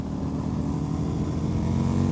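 A Kawasaki motorcycle with straight pipes passes close by, its steady loud engine drone rumbling low and continuous for the whole short stretch with no talk over it.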